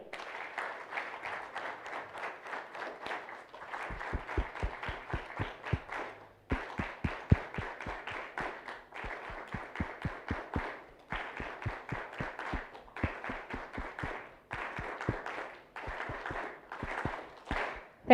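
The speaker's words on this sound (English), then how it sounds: "Guys, you have to clap, bana. You have to clap." An audience claps at an International Day of Peace event, bursts of dense applause with sharp rhythmic claps in unison, pausing briefly between rounds, close and lively.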